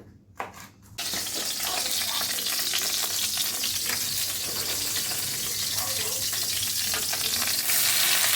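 Vegetables fry in a small amount of oil, a dense, steady sizzle kicking in after a quiet opening second with a brief clatter, then continuing loud and close to the end.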